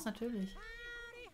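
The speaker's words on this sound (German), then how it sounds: "Oh, das ist die Katze." A cat meows in South Park: The Fractured But Whole, inside Cartman's house: one drawn-out, rising-and-falling meow, fairly close and clear, with a brief spoken word over its opening.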